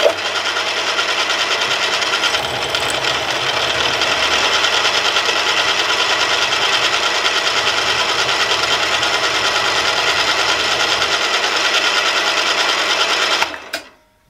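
A round column milling machine cuts metal to clean up a cut. A steady, dense mechanical whir runs close and unbroken for about thirteen seconds, then winds down, with no voices.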